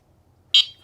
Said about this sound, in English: Here is your horn.